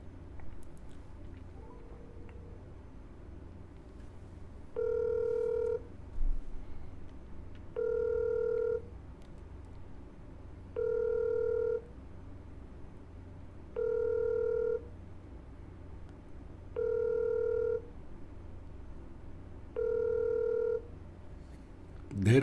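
A telephone rings back in a steady series of evenly spaced tones after a short dial sound, each ring about a second long with short gaps, moderately loud against a faint background hum.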